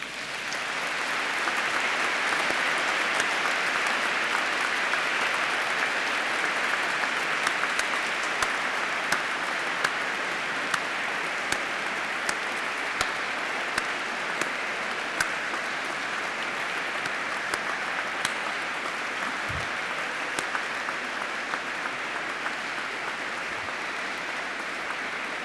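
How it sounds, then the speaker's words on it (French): A church congregation at a confirmation service in Bordeaux breaks into sustained applause, dense, even clapping filling the hall for the whole stretch with a few sharper claps standing out. "Nous les encourageons par nos applaudissements."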